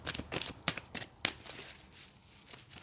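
Tarot cards being shuffled by hand, a run of sharp papery riffles and slaps in quick bursts, close and clear, easing off toward the end.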